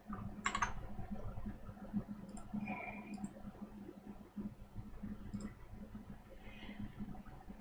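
Computer keyboard keys are tapped in scattered clicks and short bursts at close range, over a faint background hum, with no speech.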